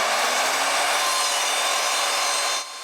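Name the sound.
new Evolution power saw cutting a 6x6 wooden beam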